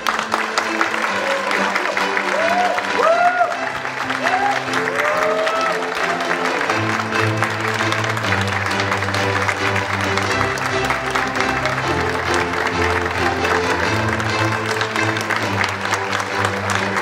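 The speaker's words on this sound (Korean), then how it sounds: "우리 T1의 페이커 이상혁 선수를 큰 박수로 맞아주시기 바랍니다." An audience applauds to welcome T1's Faker, Lee Sang-hyeok, the first inductee into the LoL Hall of Legends, at an LCK event. Loud, sustained clapping runs throughout over music, with some crowd noise.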